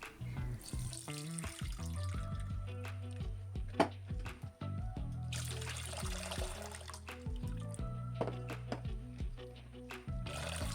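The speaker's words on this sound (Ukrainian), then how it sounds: "Далі зливаємо воду в каструлю і ставимо на вогонь" Water runs and splashes steadily into a metal pot, with clinks of kitchenware throughout and a tonal ring as it fills.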